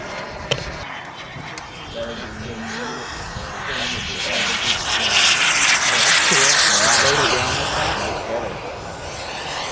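A radio-controlled model airplane's small propeller engine whines overhead at an airshow, growing louder as it passes closer at about 100 mph and then fading, with a couple of sharp clicks early on.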